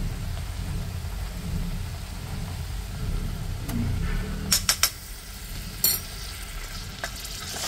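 Ginger garlic paste goes into a pan of fried onions, a steady sizzle of frying with stirring, followed by a few sharp clinks and scrapes of a utensil against the pan.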